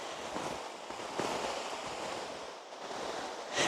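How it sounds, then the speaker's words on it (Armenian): A river flows in a snowy, icy landscape beside a rural road, a continuous broad rushing wash with some gusty wind buffeting, fairly faint and even, with no voices. "գետն է, գետը"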